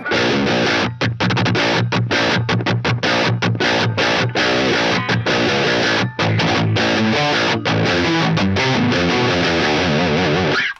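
Heavily distorted Bacchus seven-string electric guitar through an Axe-Fx III amp modeler plays chugging, palm-muted riffs with abrupt stops and chords, loud and dense with a low, heavy tone.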